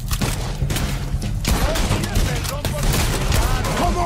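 Gunfire from a bolt action rifle in the Red Dead Redemption 2 video game, a steady run of sharp shots over dense battle noise, with scattered shots and ricochet-like whistles.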